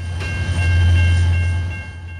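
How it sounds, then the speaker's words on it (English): Freight train led by SD40-2 locomotives rolls past, loud and near, with a deep sustained engine drone and steady high tonal whine from the rails. No one speaks. "This train pounded the diamonds really hard, and it was one of the smokiest SD40-2s we had ever seen."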